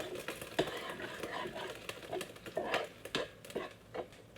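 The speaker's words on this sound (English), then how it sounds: "We're going to give it a little stir." A spoon stirs a pot of simmered zucchini and carrots in a creamy sauce, producing a soft irregular run of wet scrapes and light clinks against the pot, close and moderately quiet.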